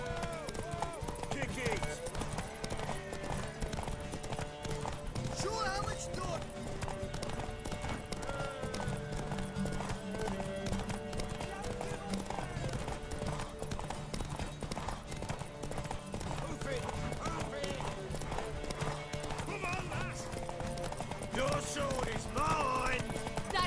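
Steady rhythmic horse hoofbeats clip-clopping throughout in the video game The Witcher 3, mixed with background music and other game sounds, with voices talking over them.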